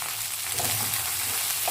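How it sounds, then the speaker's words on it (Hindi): Okra seasoned with salt and ground chili powder fries in a pan with a steady, close, continuous sizzle, holding an even level throughout without a break. "अब मैं इसे 5 से 10 मिनट तक फ्राई करूँगी।"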